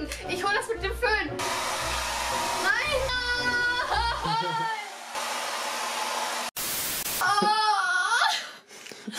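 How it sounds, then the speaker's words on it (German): A hair dryer blows in a bathroom with a loud, steady whooshing roar. Shrill, crying-like voices and shouts break in over it, then it cuts out briefly before starting again. "Ich hol das mit dem Föhn."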